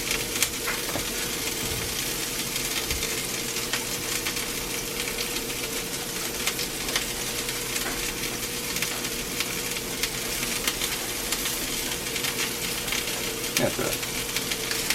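Turkey teriyaki meatballs browning in batches in a very hot cast iron pan give a steady, loud sizzle and frying crackle throughout, close up, with occasional clinks as they are turned.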